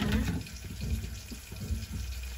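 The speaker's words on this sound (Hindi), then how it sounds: "और पानी डाल दिया ना" Water splashes steadily into a pot being filled to cook Maggi noodles at home, a soft continuous pour with faint gurgles.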